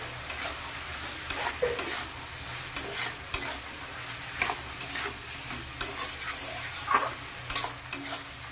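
Turmeric powder is stirred into frying eggplant in a pan, a soft steady sizzle under intermittent scraping strokes of a spoon against the pan, close and fairly quiet.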